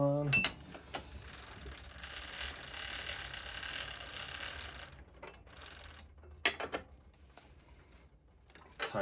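A pedal wrench tightens the pedal on a Kink Williams complete BMX bike, giving a few close ratcheting, clicking mechanical sounds with brief metallic knocks, alone without talk.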